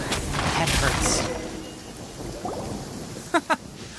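Rain patters steadily in the Genshin Impact game world while thunder rolls early on and fades, followed by two short sharp cracks near the end.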